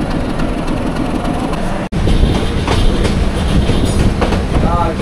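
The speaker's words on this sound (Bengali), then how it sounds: "লালমনি এক্সপ্রেস চলে যাচ্ছে সান্তাহারের দিকে।" Lalmoni Express pulling out of Bogura station toward Santahar, a loud, close rumble of rail cars with steady clickety-clack of wheels and a brief wheel squeal, continuous throughout with a short dropout near the start.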